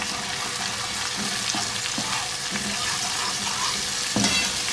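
Finely chopped tomatoes fry in a pan for a dhaba-style potato karahi, a steady broadband sizzle with soft scraping spoon strokes at irregular intervals, close and fairly loud with no talking.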